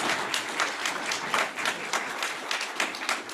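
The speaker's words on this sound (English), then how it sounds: "How about a round of applause?" A science-club audience at an evening talk on exoplanets breaks into applause, with dense, steady clapping that holds at an even level for a few seconds and no voices above it.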